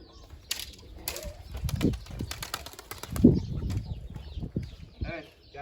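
Pigeons and tumbler pigeons flap their wings in flight over a rooftop loft in Mardin, with quick bursts of wing beats under loud, continuous talk nearby.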